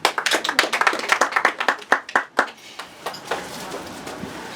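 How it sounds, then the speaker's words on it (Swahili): An audience claps in applause at a birthday celebration, with a brisk burst of close hand claps that thins out and fades to quiet after a few seconds. "Tuwapigie makofi."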